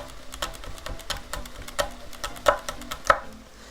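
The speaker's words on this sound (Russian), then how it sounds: "Наша задача прям очень мелко его нашинковать." A knife finely chopping onion on a board for shakshuka: rapid, evenly spaced taps in a quick steady rhythm, with a few louder strikes toward the end, close and crisp with no talking.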